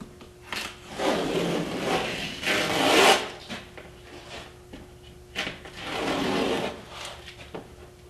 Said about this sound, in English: Now go ahead and peel your tape off.